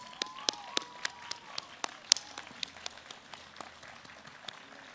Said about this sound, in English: stand up, and applaud those who are with you today